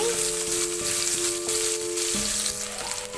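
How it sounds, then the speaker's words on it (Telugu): Onions for drumstick curry fry in hot oil in a pan, giving a dense continuous sizzle with faint tonal hums underneath, close and steady, no talk. "ఇవి కూడా బ్రౌన్ కలర్లో వచ్చేంత వరకు వేయించుకోవాలి"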